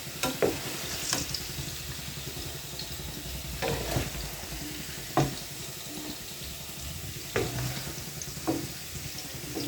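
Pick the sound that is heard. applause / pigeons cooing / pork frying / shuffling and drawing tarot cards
pork frying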